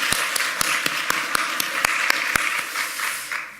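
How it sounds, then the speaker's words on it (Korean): A church congregation applauds together, with a steady wash of clapping and louder individual claps cutting through at a quick regular pace before it fades out. "우리 함께 영광의 박수 올려드립니다."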